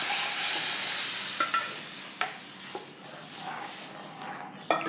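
Curry leaves and asafoetida spluttering in hot oil for a buttermilk kadhi tempering. A loud hissing sizzle fades steadily, with a few sharp pops and clinks scattered through it.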